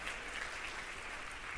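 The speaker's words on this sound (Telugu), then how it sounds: "చప్పట్లు కొట్టండి." A church congregation claps together during a live worship service, a faint, continuous patter of many hands with no speech.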